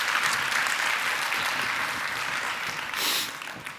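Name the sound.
audience applause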